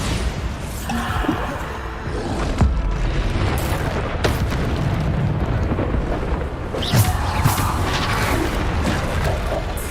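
Bombarda explosion spell booming in Hogwarts Legacy combat on maximum difficulty, dense and loud throughout, with heavy blasts and bursts layered over a continuous roar of battle effects.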